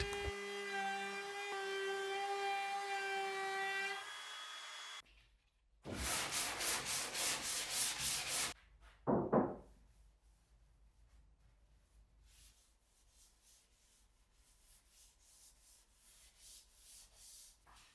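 Sandpaper rubs back and forth across a wooden kitchen countertop in short raspy strokes, close and fairly loud, after a tonal hum at the start, with fainter repeated rubbing later on.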